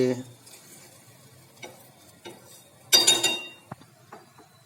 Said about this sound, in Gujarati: આ રીતે વેલણથી ખાડા કરીને અંદર દેશી ઘી થોડુંક ઉમેરવાનું છે